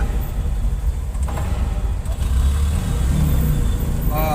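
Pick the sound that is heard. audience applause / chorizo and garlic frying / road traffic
road traffic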